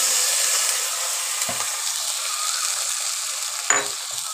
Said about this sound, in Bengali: এবার এর মধ্যে দিচ্ছি অল্প আমার পেঁয়াজ বাটা আছে, সেই পেঁয়াজ পেস্টটা আমি দিয়ে দিচ্ছি এর মধ্যে